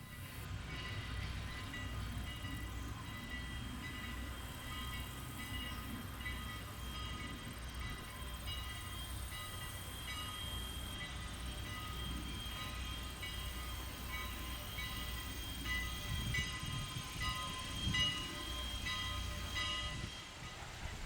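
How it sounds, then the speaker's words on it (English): A steam train at the Strasburg Rail Road rumbles steadily in the distance, a low continuous roar with faint metallic tones, growing no louder over a long stretch, with no voices. "we may start hearing the train as it makes its way back toward the station"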